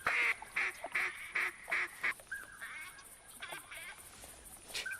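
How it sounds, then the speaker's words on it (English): Pintail and black duck calls in the hunting video game theHunter Classic, a rapid series of loud repeated quacks followed by softer scattered calls and faint game ambience, with no talk over them. "I hear pintails. I think I heard a black duck."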